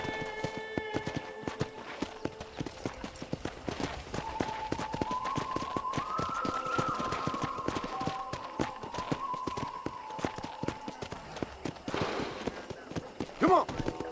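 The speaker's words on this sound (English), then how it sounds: "let's see if you can still ride a horse" Horse hooves in the Western video game Red Dead Redemption, a continuous rapid clip-clop at moderate distance, joined by a faint tonal background sound and a louder burst near the end.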